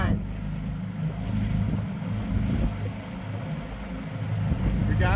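A motorized dinghy runs fast across the water, about 18 miles an hour, its steady engine drone mixed with heavy wind buffeting and splashing close by.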